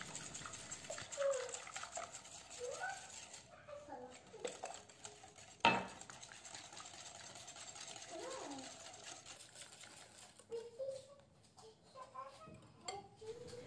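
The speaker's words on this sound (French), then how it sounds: "Puis 150 ml d'huile végétale en continuant de fouetter." Cake batter is whisked with vegetable oil in a bowl for a Moroccan cake, making quiet, rhythmic clinks and scrapes of the whisk against the bowl, with a voice talking faintly at times.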